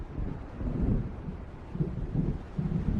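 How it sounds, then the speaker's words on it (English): Low, rumbling thunder from an approaching storm in the video game Alan Wake, rolling in several soft swells under wind, dull and distant with no voices. "It seems there's a storm coming."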